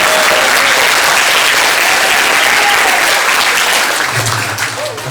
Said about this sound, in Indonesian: Karena Syawal Maulana merindukan tepuk tangan Anda hari ini